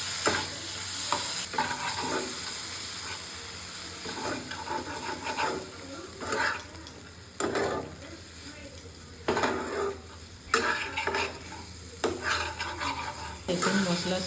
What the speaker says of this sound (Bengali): মশলাও কষানো হয়ে যাবে আর চিকেনের পিসগুলোও সুন্দর ভাজা হয়ে যাবে।